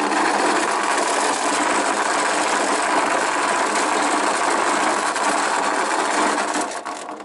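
Gearbox of homemade pedal boat No. 7 spinning at a 16x gear ratio, a loud, steady, dense mechanical whir and rattle lasting several seconds before easing off near the end, with no talk.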